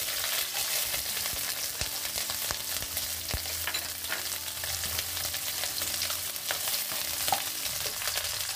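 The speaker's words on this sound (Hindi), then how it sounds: "एक चम्मच घी डालेंगे हम इसमें। इसमें हमें शिमला मिर्च डालेंगे।" Capsicum fries in ghee in a pan for chilli paneer, a continuous close sizzle broken by frequent small clicks and scrapes of stirring, with no one speaking.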